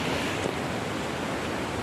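A swollen river in flood near Nalbari in Assam rushes past, making a continuous, even roar of churning water that is fairly close and has no voices over it.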